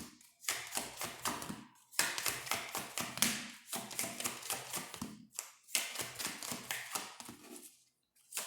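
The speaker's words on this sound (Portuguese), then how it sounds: "Deixa eu embaralhar mais aqui." Tarot cards shuffled by hand in repeated bursts, each a rapid riffle of close, crisp slaps and flutters separated by short pauses, with no voice over them.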